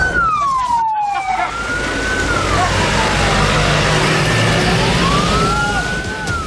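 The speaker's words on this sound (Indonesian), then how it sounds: "Raungan sirine mobil pemadam kebakaran dari tim Posko Gabungan Karhutla Kabupaten Kotim hilir mudik menuju lokasi kebakaran" Fire engine sirens from a combined forest and land fire response team in Kotim regency, Indonesia, wailing loudly at night as the trucks race back and forth to fire sites, with rising and falling sweeps over heavy road rumble.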